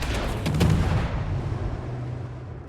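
Battleship main guns fire in the World of Warships naval combat game, a heavy booming salvo near the start that rolls into a fading rumble.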